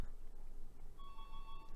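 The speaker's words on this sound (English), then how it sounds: "The phone's ringing again." A telephone starts ringing partway through, a faint steady electronic tone that carries on to the end over quiet room noise.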